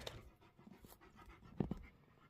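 A dog pants quickly and softly while exploring an abandoned cow camp building in Montana, giving a rapid train of close, faint breaths with a couple of slightly louder puffs near the end.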